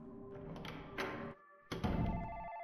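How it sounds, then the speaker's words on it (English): A telephone rings inside the indie horror game Night Freak, two short electronic ring bursts separated by a brief gap. The rings are fairly quiet and close, with a soft thunk mixed in and no talking. "Oh, phone's ringing."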